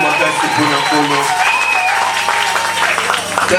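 A church congregation applauding loudly, a dense wash of clapping and scattered cheers that carries through the whole stretch, with voices and an amplified speaker audible beneath it.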